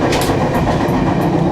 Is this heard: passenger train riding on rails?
yes